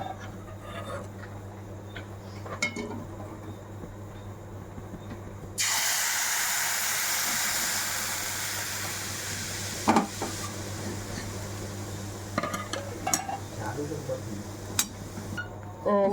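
Milk poured into hot vermicelli in a pan, starting with a sudden loud hiss of steam that slowly fades, set against a steady background hum with a few clinks and knocks.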